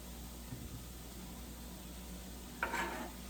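Tomatoes and spinach sizzle faintly in a pan for a vegan quiche, a soft steady hiss with a brief louder burst of frying near the end.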